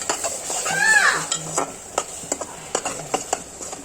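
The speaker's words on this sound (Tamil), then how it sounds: "எல்லாத்தையும் நல்லா மிக்ஸ் பண்ணிக்கலாம்." A utensil stirs and scrapes through fish curry ingredients with tamarind in a pan with a light sizzle, producing a series of irregular clinks and scrapes.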